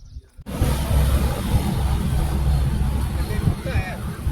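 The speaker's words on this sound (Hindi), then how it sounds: "तो ये देखो ट्रैक्टर आ गया है" A tractor arriving at a farm site, its low engine rumble and drone steady and fairly close from about half a second on, with a faint background hubbub.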